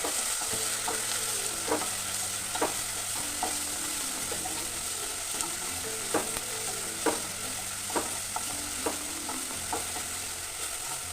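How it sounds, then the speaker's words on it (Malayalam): Small pieces of banana sauté in ghee in a pan with a steady soft sizzle, punctuated by regular clicks and scrapes of stirring; no one speaks. "അത് ഞാൻ ഇട്ട് കൊടുക്കുന്നുണ്ട് ഞാൻ നല്ലതൊന്ന് വഴറ്റി കൊടുക്കണം"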